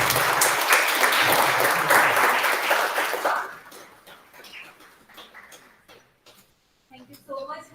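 An audience applauds after a speech at a National Mathematics Day event, a dense burst of clapping that fades after about three seconds into scattered claps, with a voice briefly heard near the end.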